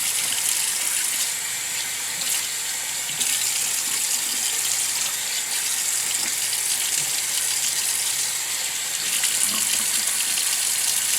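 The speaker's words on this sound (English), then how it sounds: "I just want to get this like in water and flowing down the drain is what I want." Water pours steadily from a tap and drains away down a sink, a continuous close hiss and splash that holds an even level throughout, with no voices.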